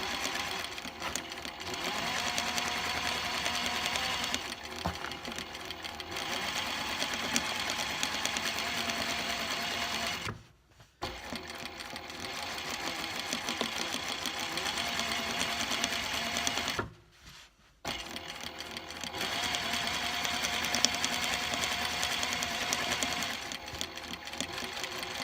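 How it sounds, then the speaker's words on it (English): A sewing machine runs steadily, stitching fabric down a pinned crease line in a continuous loud whir, with two brief pauses before the stitching resumes. "just machine stitch all the way down where that crease line is"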